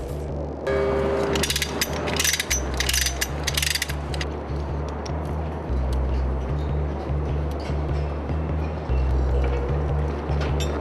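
Ratcheting clicks and metallic mechanical bursts come from turning a bolt while a tower crane is installed high on a building site, repeating in an uneven rhythm over a droning low hum.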